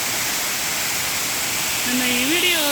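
Sirimane Falls near Sringeri pours in a steady, dense roar of falling water that fills the whole scene without a break, with a brief tonal voice-like sound rising near the end.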